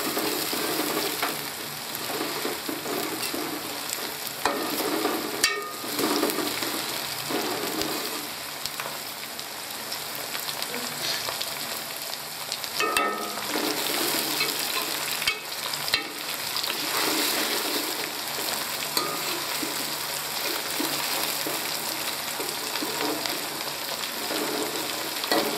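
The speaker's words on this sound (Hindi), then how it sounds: "टमाटरों को थोड़ा सा फ्राई करेंगे।" Tomatoes frying in a pan for moong dal, a continuous close sizzle with repeated scraping stirs and clacks of a spoon against the pan.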